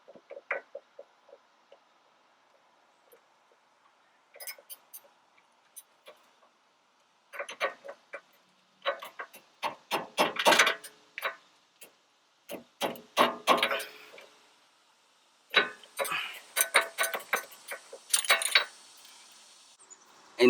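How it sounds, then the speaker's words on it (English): A ratchet turning a 40mm deep socket on the rear wheel bearing bolts of a 1998–2002 Honda Accord, giving close, sharp bursts of rapid clicking separated by short pauses, with faint work noise in between. "I'm using an extension to remove the one on top, and I'm using a 40mm deep socket to remove the one on the bottom."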